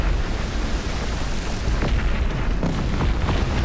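Artillery cannons firing in the 2002 PC strategy game Cossacks: Back To War, a dense barrage of booms and pops layered over constant battle noise, loud and continuous with no talk.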